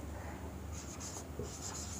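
Pen writing on paper during a maths and physics lesson, short scratchy strokes in quick bursts, close and clear with no talk.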